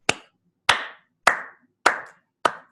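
Five sharp hand claps at an even, steady pace about 0.6 seconds apart, close and crisp, each with a short decay and nothing else heard between them.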